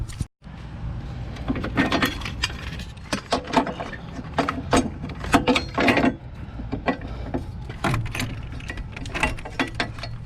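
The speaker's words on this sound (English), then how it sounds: "Next up, we're going to remove these two bolts right here." Hand tools working two tight bolts on the transmission of a 2017 Ford Focus RS, with repeated metallic clicks and ratcheting bursts close by, separated by brief pauses and light handling noise.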